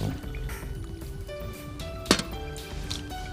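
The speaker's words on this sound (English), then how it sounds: "Okay, I'll fill 2 cups with boiling water." Boiling water pours into two cups with a soft gurgling trickle and drips, close and quiet, a brief sharper splash midway and faint background tones.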